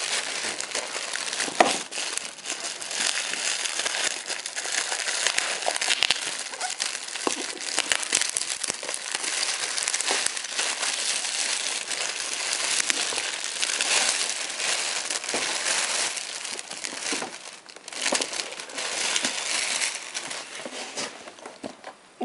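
Plastic packaging around a L'Oréal Steam Pod crinkles and crackles close by in a long busy stretch of crumpling, handling and occasional tearing, with no talk over it.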